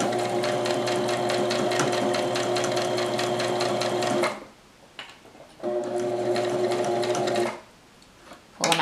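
A sewing machine stitching a straight line runs in two close, steady bursts of rapid needle clatter with a whirring hum, separated by a brief pause with soft handling noises.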